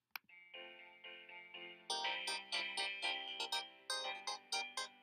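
A bright, plinky electronic melody made in GarageBand plays in repeated short phrases, getting busier and louder halfway through with stacked chiming notes and steady beats.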